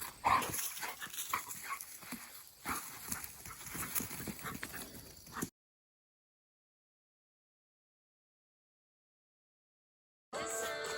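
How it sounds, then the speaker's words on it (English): A loud dog barks at a campsite during car camping, with a burst of barking and outdoor noise for about five seconds, then an abrupt cut to silence before the sound briefly returns. "You thought I was lying about my dog being the loudest."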